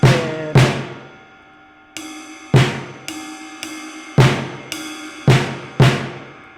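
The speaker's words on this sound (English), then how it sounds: "the next step is we're going to split it between our ride cymbal and our snare drum" Beginner paradiddle groove split between ride cymbal and snare drum, sharp snare hits alternating with ringing ride strokes in a steady pattern, close and loud with no talking.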